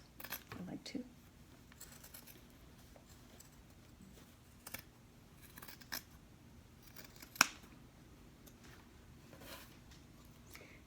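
Scissors trimming the lining of a handmade bag, a few quiet snips and cuts spread over a low room hum, with a sharper clip near the end.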